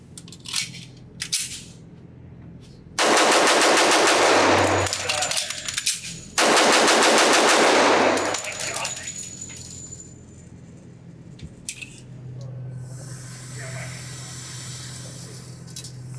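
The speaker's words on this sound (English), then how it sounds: "I can shoot this pistol pretty fast" Two loud, rapid strings of pistol shots from a Cabot Guns Apocalypse Damascus steel 1911 on a range, each burst lasting a few seconds, with brief speech and clinking of ejected casings around them.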